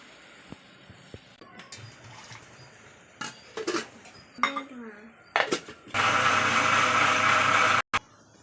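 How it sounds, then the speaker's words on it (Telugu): A mixer grinder blends peanut chutney from peanuts, tomatoes, green chillies, onion and cumin, roaring loudly and steadily for about two seconds and then cutting off abruptly, after scattered kitchen clatter and soft handling noises. "ఇవన్నీ కలిపి మిక్సీ చేసుకొని"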